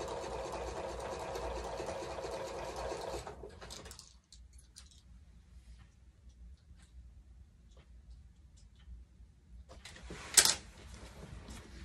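A sewing machine stitches steadily for a few seconds, a fast, close mechanical whir that then stops, leaving quiet room noise and a brief sharp clack near the end.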